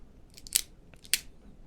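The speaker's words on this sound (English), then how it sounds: "So I can open it, cut, close again." A 20.5 clip point pocket knife with a 3V steel blade being flicked open and snapped shut, giving two short, sharp metallic clicks about half a second apart, close and crisp over a quiet background.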